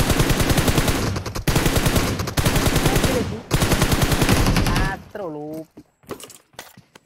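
Rapid automatic gunfire from a battle royale match during a pro scrims tournament, dense sustained bursts for about five seconds, then a tonal game effect and scattered faint shots as a commentator's voice cuts in.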